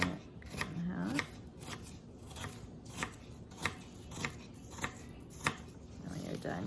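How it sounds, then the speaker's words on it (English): A knife chopping apples on a cutting board in a kitchen, with steady repeated sharp taps at about one per second, close and moderately quiet, and a voice talking over the start and the end. "I want the apples chopped a little finer"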